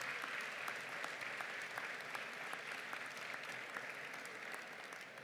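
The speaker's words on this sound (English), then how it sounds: "give them a round of applause for all that they have done to support you while you were here at Grandview" Steady, faint applause from a large audience fills a university commencement ceremony, an even wash of clapping that slowly tapers without any voices on top.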